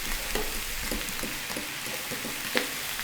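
Kale wilting in a hot frying pan, a steady sizzle broken by scraping stirs and occasional sharper pops, close and continuous, with no one talking.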